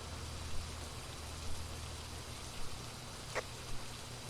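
Steady rain in the Phasmophobia ghost-hunting game at the Tanglewood Street House map, a continuous even hiss with a few soft bumps, playing alone without talk.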